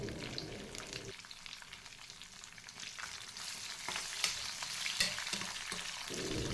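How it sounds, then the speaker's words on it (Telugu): Onions with coriander, dried chillies and curry leaves fry in hot oil in a kadai for lentil rasam, crackling and sizzling steadily close up while occasional scrapes and taps of stirring come through, no talk. "కొత్తిమీర వేసుకొని ఆనియన్స్ కూడా వేసుకొని ఒకసారి కలుపుకుందాం"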